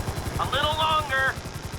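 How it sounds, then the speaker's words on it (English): A helicopter hovers in the GTA V video game, with steady, rapid rotor chops throughout under a tonal engine whine, close and constant while someone talks over it. "Just hold the chopper here."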